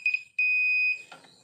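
A multimeter in continuity buzzer mode gives two beeps: a short high-pitched tone, then a longer steady one lasting about half a second, loud and close, followed by faint handling clatter.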